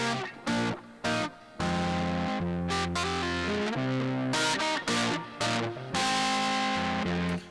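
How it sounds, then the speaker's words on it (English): A music loop run through a compressor and distortion in a master chain, a loud, gritty, saturated groove with heavy bass, choppy gated stops and restarts, playing without any talk. "So I have the compressor and a distortion running at the same time."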